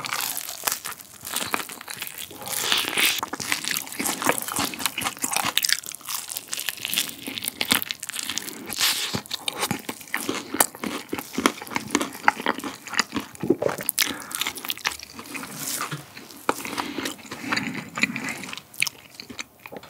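Crunchy zero-sugar seasoned fried chicken being eaten up close, dense crackling crunches and chewing bites repeating steadily and loudly throughout, with no talk.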